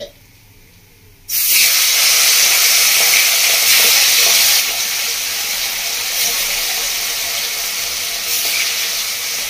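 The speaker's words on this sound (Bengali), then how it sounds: "বাকি এই মাছটা আছে এটা আমি ভেজে নেব।" More kalbos fish slid into hot oil in a village-style kitchen, erupting into a loud, steady hissing sizzle that holds for several seconds before easing slightly while continuing.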